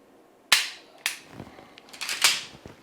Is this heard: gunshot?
yes